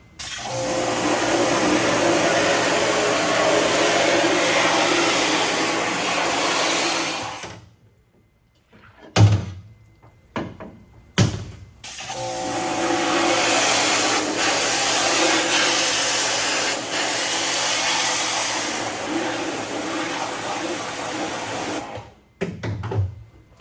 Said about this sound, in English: grab your pressure washer and start blowing it out